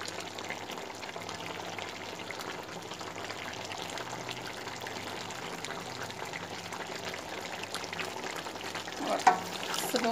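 Mutton frying in oil with black pepper in a karahi: a steady, moderate sizzle with soft stirring scrapes throughout and a slightly louder clatter near the end.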